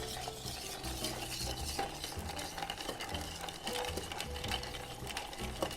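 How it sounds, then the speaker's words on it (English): A bar spoon stirring a classic Manhattan with Angostura bitters in a mixing glass, giving a faint, continuous scraping and clinking swirl of ice, steady and close with no talking. "We're going to give it a stir down."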